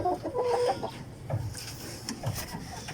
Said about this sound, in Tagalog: Malalaking manok talaga to eh.